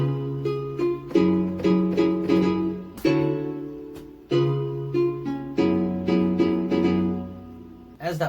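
Harp sound played on a keyboard, plucked notes rippling through a slow chord progression, each chord ringing and fading before the next, clear and alone with no voices.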